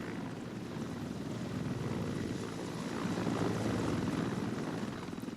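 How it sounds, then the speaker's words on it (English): Helicopter in flight over a remote riverside area, a steady, muffled rotor and engine drone heard at moderate distance throughout, swelling slightly toward the end. "It was different coming in by helicopter."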